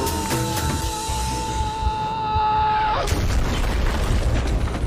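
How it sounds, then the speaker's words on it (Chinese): A heavy body slams into the ground in a superhero family film, hard enough to leave a crater: a loud boom around three seconds in, over a sustained tonal score and rumbling effects, with no speech. "地面被大胖砸出了一个大坑"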